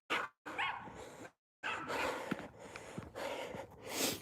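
A dog barks and snorts in the dark outdoors, a few close, harsh bursts separated by short silences, with no talk over it.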